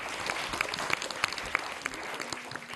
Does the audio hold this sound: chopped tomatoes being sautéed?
no